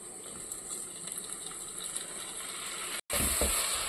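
Tomatoes sautéing in a pan of ginger and garlic for prawn curry, a soft steady sizzle with occasional scraping stirs, briefly cutting out and then returning louder and closer.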